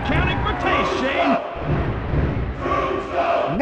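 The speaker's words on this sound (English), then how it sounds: "Listen to this capacity crowd!" Capacity crowd cheering and roaring in the WWF Attitude wrestling game on PS1, a loud continuous wash of yelling fans with bellowing peaks, a commentator-like voice talking over it.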